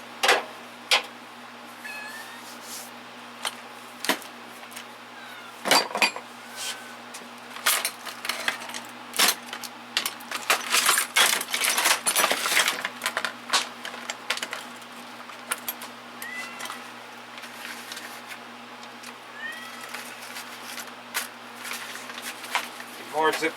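Metal hand tools, a knife and a chisel among them, are set into a toolbox, giving scattered clinks, clatters and rattles, with a dense burst of jangling in the middle and a quiet room tone between.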